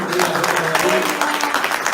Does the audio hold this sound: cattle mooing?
no